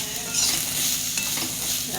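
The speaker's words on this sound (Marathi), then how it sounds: "असं भाजला पाहिजे पूर्ण, असा लाल होईपर्यंत." Spice masala is stirred and roasted in oil in a pan until it turns red, for a spicy bitter gourd curry, with a close, continuous crackling sizzle and repeated scraping strokes.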